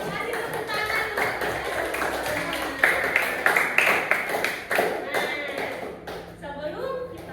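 Students clap in a classroom, a scattered, moderately close patter of hands with a few stronger beats midway, under a teacher's voice.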